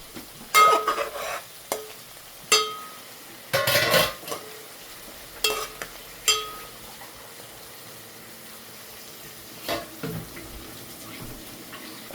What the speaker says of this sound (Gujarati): મસાલાને પાકવા દેવાનું છે.